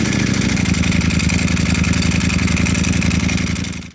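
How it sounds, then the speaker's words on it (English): A Ducati V4 motorcycle's dry clutch rattles loosely over the engine's rapid, steady idle pulse, a close, loud metallic clatter running continuously for a few seconds before cutting off. "these dry clutches sound like shaking a bucket of bolts."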